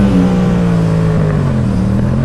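A motorcycle on a race track during a trackday at the Brasília autodrome, its engine droning steadily and loud from close by as it holds speed, with no talk.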